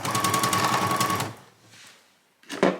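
A sewing machine stitches a cuff on its free arm, running in a fast, steady mechanical whir with a humming tone, then stopping; a short burst of handling noise or a brief voice follows near the end.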